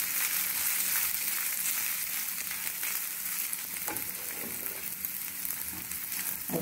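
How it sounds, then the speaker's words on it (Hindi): Cloves, two green cardamom pods and a quarter spoon of lemon roasting in a pan for sambhar masala, giving a steady close sizzle with faint stirring scrapes throughout, no voices. "नींबू डालेंगे 1/4 चम्मच, लौंग, 2 इलायची हरी, इसको भून लेना है।"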